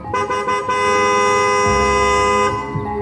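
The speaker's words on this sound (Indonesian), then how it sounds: "Seketika, suasana menjadi tegang dan Bujang mencoba mengusir ular tersebut dengan cara mengklaksonnya." A car horn blares in a school theatre play, loud and close, sounding a few short toots before one long, sustained honk with a second tone joining midway.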